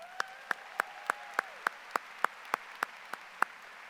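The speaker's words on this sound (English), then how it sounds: "Let's give those a round of applause." At a high school graduation ceremony, sharp claps ring out close by in an evenly spaced, steady rhythm of about a dozen, sounding more like one pair of hands than a full crowd.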